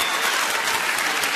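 Audience applause at a comedy show, a short burst of dense, steady clapping from a crowd with no voices over it.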